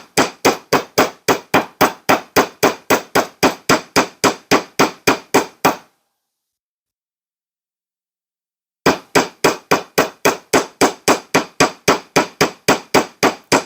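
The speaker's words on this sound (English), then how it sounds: "The more you hammer it, the thinner this is going to get and the flatter it's going to get." Rapid, steady metallic hammer blows flattening jewelry wire on a hard surface, loud and close, pausing for a few seconds before resuming at the same brisk rhythm.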